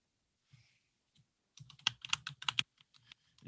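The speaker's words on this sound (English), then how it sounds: "my typing is not working right now" Fingers type on a computer keyboard in a quiet room: a short tap or two, then a quick burst of crisp clicking keystrokes at an uneven pace, close and clear.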